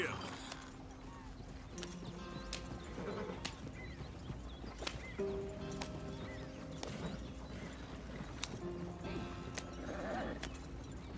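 Hoofbeats clop in a steady rhythm as a horse moves along in the Red Dead Redemption 2 video game, with whinnies and snorts mixed in and voices talking over them.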